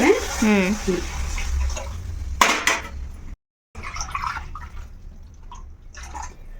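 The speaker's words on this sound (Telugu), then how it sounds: "ఇప్పుడు మనం దేంతో అయితే సేమియాలు తీసుకున్నామో దాంతో 2 డబ్బులు నీళ్ళు వేసుకోవాలి" Water pours into a pan for semiya upma, a close, splashing stream that shifts in pitch as the pan fills, then short clinks of the vessel follow a brief silence.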